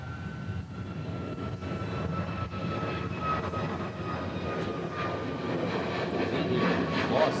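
A fixed-wing airplane passes at Honolulu airport with a steady, fairly loud engine roar and a thin high whine drifting in pitch, sustained throughout with no talk.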